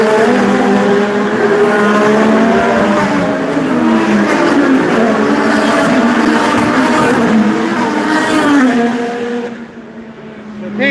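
IndyCar race cars at the Honda Indy Toronto roar past loudly and close, engine pitches sweeping up and down in overlapping passes, fading briefly near the end.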